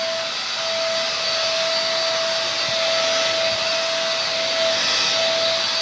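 A Keenox hoover vacuum cleaner runs loud and close with a steady whooshing roar and a constant motor whine while sucking up muck, with a couple of faint knocks beneath.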